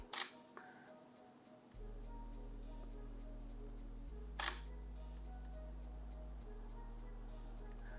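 A Sony camera's shutter fires a single shot, a sharp brief click standing out over a quiet room with a steady electronic hum, followed later by a second click.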